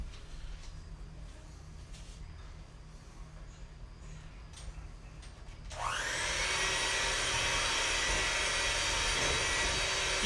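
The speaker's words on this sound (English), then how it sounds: "just until everything's blended together with the mixer" An electric hand mixer blending brownie batter switches on partway through, giving a loud steady whirring motor hum that continues to the end after a quieter stretch of background noise.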